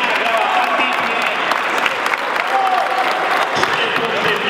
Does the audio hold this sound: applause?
yes